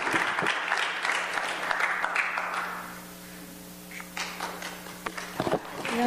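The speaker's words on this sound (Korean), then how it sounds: "우리 박수로 환영할까요?" A church congregation applauds to welcome a woman returning from a Chiang Mai mission trip as she comes forward to give testimony, the clapping fading as a steady hum and a few light taps linger near the end.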